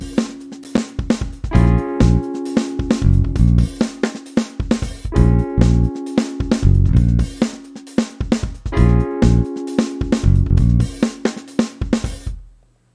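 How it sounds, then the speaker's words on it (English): A backing track of Wurlitzer electric piano, bass guitar and drums plays a steady, looping groove with punchy kick and snare hits under sustained keyboard chords, full and loud throughout with no voices. "here we have a backing track. It's just a Wurlitzer, a bass guitar, and some drums."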